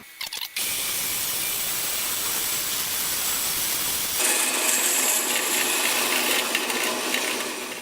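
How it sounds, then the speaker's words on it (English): A bandsaw slices a thin piece off the bottom of a wooden drink coaster holder, a loud steady whirring hiss that changes to a brighter, harsher cutting tone partway through and runs on to the end. "cut a little slice off the bottom"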